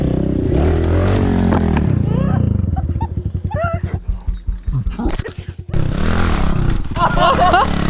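A pit bike buzzes and revs around a garden dirt track, its engine note rising and falling in bursts, with people talking and shouting over it.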